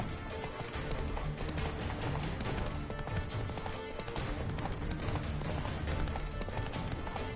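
A horse gallops along a rough road during a race in The Witcher 3 video game. Rapid, rhythmic hoofbeats drum steadily from start to finish, close and continuous, with no speech.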